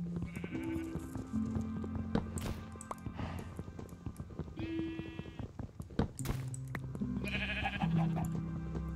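Minecraft Oneblock sheep bleating repeatedly in short wavering calls over a busy game background of music and other farm animal sounds, with no talk.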